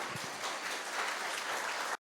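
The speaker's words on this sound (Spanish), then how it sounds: "Dale ese aplauso al Rey." A church congregation applauds at the close of a sermon on spiritual warfare, with a soft, dense wash of clapping heard at a distance that cuts off abruptly.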